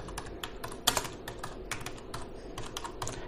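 A name is typed on a computer keyboard: quiet, quick, uneven keystrokes clatter steadily, with one sharper key press near the start and no voices.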